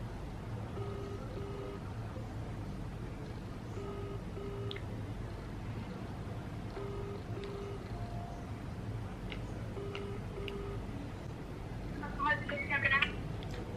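A telephone ringback tone repeats in paired beeps, steady and moderately clear over a low room hum, as a call is placed from a room at the Leonardo Royal Hotel, with a short burst of clicks near the end.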